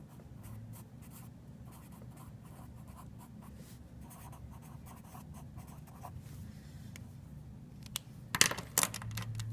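Marker on a classroom board during a geometry lesson on parallel lines and angles, soft faint scratchy strokes in short bursts, ending in a few sharper taps and clicks.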